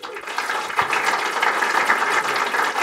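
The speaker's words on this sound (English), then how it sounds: "big round of applause" Audience applause at a VR film showcase: dense, steady clapping that holds at a fairly even level for the full stretch, with no voices breaking through.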